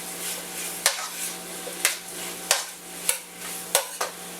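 Onions and aromatics sautéing for Spanish bean soup, a soft steady sizzle broken by about six sharp scrapes and knocks of a utensil stirring the pan, close and fairly quiet.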